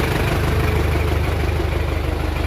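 A tractor engine idles steadily up close, a loud, even low rumble with a fast regular throb and no break or change in pace.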